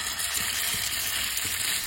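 Round marinated chicken burger patties fry in oil on a flat tawa, giving a steady, fairly quiet sizzle with faint crackles all the way through.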